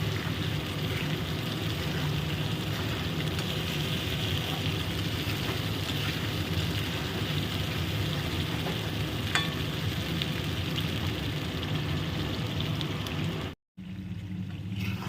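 Potatoes fry with spices in a pan, aloo dum style, making a steady, even sizzle that runs continuously throughout, broken only by a brief dropout near the end.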